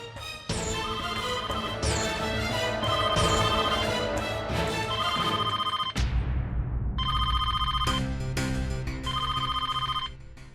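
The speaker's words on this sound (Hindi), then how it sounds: "अरे कब से ट्रिंग ट्रिंग बजने में लगा है, कोई उठा क्यों नहीं रहा है फोन?" A telephone rings insistently in a home scene from a Hindi TV drama, with repeated electronic bell trills in regular bursts. The rings are loud and close, and a brief whoosh cuts in halfway before the ringing resumes.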